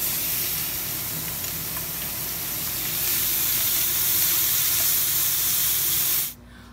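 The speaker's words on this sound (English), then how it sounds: "sear these different vegetables that are going in the soup individually" Steady broadband sizzle of vegetables searing one batch at a time in a hot pan for a rustic lamb and white bean stew, loud and continuous before cutting off abruptly near the end.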